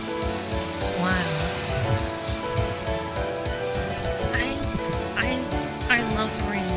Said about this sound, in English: I love watching the rain.